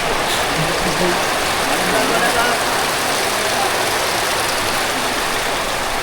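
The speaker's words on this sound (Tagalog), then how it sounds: "ang lakas ng ulan" Dense, steady hiss of heavy rain filling the scene, with low rumbling underneath and faint voices mixed in throughout.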